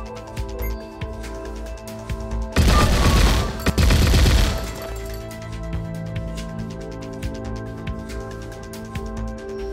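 Gunfire in the video game Halfway: two loud, dense bursts of rapid automatic shots lasting about a second each, standing out above quiet game ambience and faint electronic tones.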